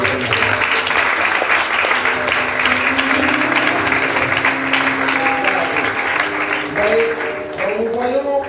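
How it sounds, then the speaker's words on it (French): A church congregation at a French worship service applauds and cheers, a loud continuous roar of clapping and voices with some tonal sound threading through, rising again toward the end. "Et les acclamations pour la parole de Dieu."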